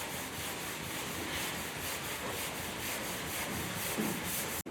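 Steady, rhythmic abrasive rubbing of sandpaper on filler primer on an Austin Mini car body, continuous and close, with no voices.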